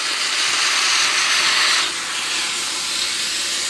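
Rocket R58 V2 espresso machine steam wand blasting a strong, steady hiss, loud and continuous, easing slightly partway through with no talking.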